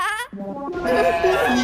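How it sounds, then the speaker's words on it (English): Cartoon sheep bleat in a flock, several wavering bleats overlapping and close, following a brief voiced sound at the start, all loud and unbroken. "So just how do you distract a flock of murderous sheep?"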